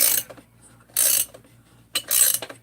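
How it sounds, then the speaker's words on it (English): Ratchet wrench clicking on a Husqvarna 257 chainsaw crankcase during assembly, heard as two bright bursts of rapid ratcheting with a brief tick between, close and loud with no talk. "So I get a handle, a wrench,"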